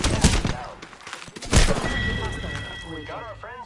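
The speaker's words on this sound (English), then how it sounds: "Opening fire." Video game gunfire cracks in sharp bursts and single shots, loud and close, with echoing tails and brief mechanical tones between volleys.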